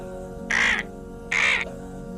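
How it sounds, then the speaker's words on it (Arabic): Two sharp, raspy crow caws ring out close by, each lasting under half a second with a short pause between, over a low steady hum. "crow."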